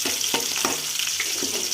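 Mustard seeds, onions, curry leaves and urad dal fry in a pan with a continuous close sizzle. Faint stirring clicks and small pops run through it.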